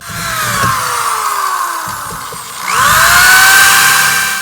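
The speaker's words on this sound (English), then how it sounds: "I'm gonna drill out these holes." A power drill whines loudly as it drills holes in sheet metal, its pitch dropping as it bites in, then spinning up again in a second burst.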